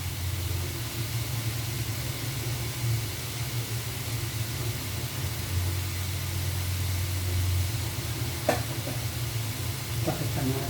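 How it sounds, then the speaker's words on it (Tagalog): Food frying in a home kitchen pan, sizzling in a steady, close, fairly loud hiss with a low hum underneath and a couple of brief clinks near the end; no talking. "So magprito na rin ako."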